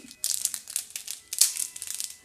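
Plastic packaging of a Lancome holiday gift set crinkles and tears in bursts of sharp rustling, close by and fairly loud, with brief pauses between handling.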